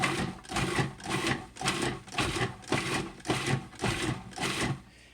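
A food processor pulses fresh herbs for herb butter in about nine short, loud bursts of whirring blade noise. The bursts come in a steady rhythm, each separated by a brief pause.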